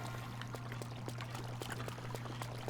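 Flowing water in Zelda: Breath of the Wild inside a shrine, a steady pouring rush with a constant low hum and light splashing ticks throughout.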